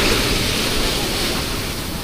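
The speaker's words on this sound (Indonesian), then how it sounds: "Teka kuwi ombak di Pantai Kembar Terpadu Kebumen ini salah satu ombak terbesar" Large ocean waves at Pantai Kembar Terpadu beach in Kebumen surge and crash in a loud, continuous roar of surf, close by, with wind buffeting the microphone.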